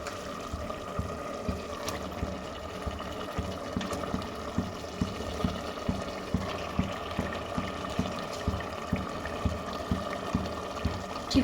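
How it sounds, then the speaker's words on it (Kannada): Chicken pieces dropped into hot oil with fried ginger-garlic paste for a chicken biryani, giving a steady close sizzle and bubbling with soft repeated stirring knocks throughout, no talking. "ನಾನಿವಾಗ ಚಿಕನ್ ಹಾಕ್ತಾಯಿದ್ದೀನಿ ಅದರೊಳಗಡೆ"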